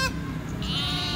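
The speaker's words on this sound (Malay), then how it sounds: "kita lihat di sini hanya ada beberapa kambing dan beberapa biri-biri ya" A goat or sheep at a livestock market in Lhokseumawe gives a short, fairly quiet bleat over a steady background murmur.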